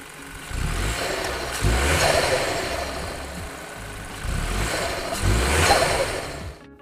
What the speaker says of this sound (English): It has an EcoBoost 3-cylinder turbo engine, which sounds like a diesel.